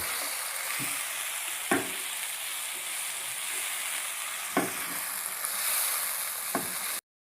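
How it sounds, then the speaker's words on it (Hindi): Chopped tomatoes and onions frying together in a pan, a continuous bright sizzle close by with occasional spatula knocks against the metal. "ये देखें हमारे टमाटर और प्याज फ्राई हो रहे हैं।"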